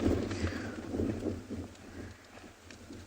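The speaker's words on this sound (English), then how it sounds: "You can hear how windy it is." Wind on a South African safari reserve buffets the microphone in low, uneven gusts, rising and easing across the few seconds with no other clear sound.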